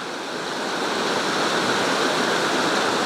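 Close, constant rushing of a river below the Bout du Monde cascade near Volvic, a broad, unbroken wash of water noise holding at the same strong level from start to finish.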